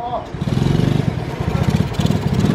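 Shineray 100cc motorcycle with no clutch, modified, revving and accelerating up close in a rapid, throbbing pulse that holds steady throughout, with people talking over the engine.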